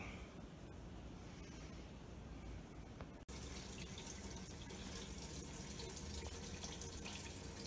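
Gasoline siphons from a five-gallon can into the tank of a 1988 Chevy R35 dually pickup truck, a steady, faint liquid rush with a brief break near the middle before flowing on evenly.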